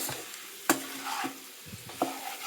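Onion and vegetables for shukto sautéing in a pan, a light sizzle broken by a few sharp clacks and scrapes of the stirring spoon, close and moderately quiet, with no voices.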